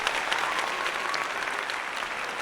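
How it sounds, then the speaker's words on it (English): Dense applause from a crowd, many hands clapping in a continuous, fairly loud wash from start to finish. "Applaud this man."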